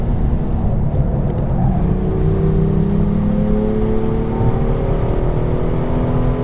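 A 2016 BMW M2 accelerates at full throttle on a track, its engine note rising steadily in pitch under strong, continuous road and wind noise. The car is loud and close, and no one speaks.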